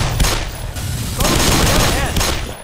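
Gunfire in the video game Black Mesa, a dense burst of rapid shots and booms at close range filling the short stretch, with voices talking over parts of it.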